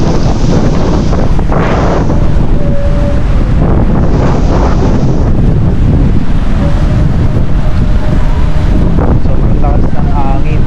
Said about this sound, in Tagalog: Sobrang lakas ng hangin. Maganda sana surfing spot dito kaso sobrang lakas ng alon.